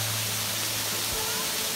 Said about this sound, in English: Go through the waterfall